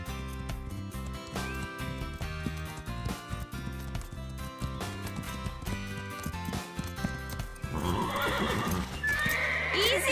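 Restless cartoon horses neigh and whinny while hooves clip-clop, set against a steady musical score; the sounds grow busier and louder toward the end, with no talking.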